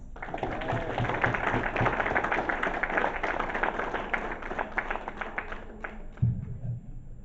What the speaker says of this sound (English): That needs an applause.